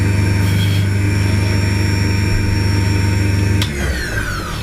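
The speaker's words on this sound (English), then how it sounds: "Back to the sander." A sander runs in a ship model workshop with a loud, steady motorized drone and a strong low hum, then slows and winds down near the end.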